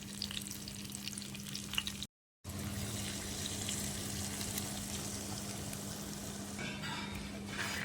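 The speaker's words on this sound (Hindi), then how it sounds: "ऑयल गर्म हो चुका है, इसमें मैं अब सब्ज़ मिर्चें, थोड़ी सी जो है फ्रेश लाल मिर्चें और गोला मिर्चें डाल दूँगी।" Green, fresh red and round chillies sizzling in hot oil with desi ghee for a tadka, a steady close crackle and hiss with a brief dropout partway.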